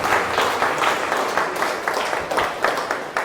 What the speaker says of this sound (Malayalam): എല്ലാവർക്കും നമുക്ക് നല്ലൊരു കയ്യടി കൊടുത്ത്